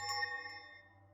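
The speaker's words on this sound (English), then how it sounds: "ringing a bell" A bell in the horror video game The Timeless Child, set in Wells Manor, strikes once with a bright, metallic ring. The clear tone fades slowly over about a second, with no talking.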